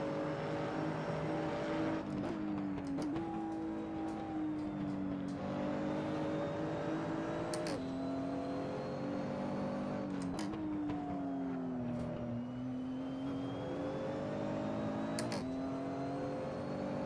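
Nissan GTR GT3 race car in a racing video game, its engine droning steadily with repeated pitch rises and dips as it shifts through gears and slows, loud and continuous throughout.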